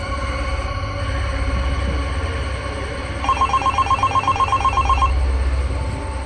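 A telephone rings while a call to the CID goes through, a rapid electronic trill sounding over a steady background hum, then breaking off after a couple of seconds.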